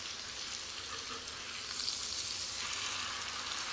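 Tri tip steak searing in garlic butter in a pan for smoked Santa Maria-style tri tip, giving a steady, close, loud sizzle that swells slightly midway, with no talking.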